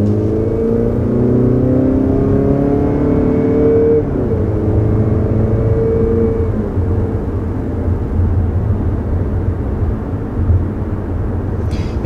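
A 2021 Mazda CX-30 with optional all-wheel drive speeds up on the road. A steady engine drone and road rumble carries throughout, with rising engine tones in the first few seconds before it settles into a smooth cruise.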